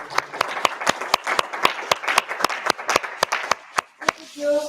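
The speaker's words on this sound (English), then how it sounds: "Everybody clap for Recursion" Small audience at a data engineering meetup clapping for a sponsor, a few nearby hands producing sharp, fairly regular claps that run for about four seconds and then stop, followed by a brief voice.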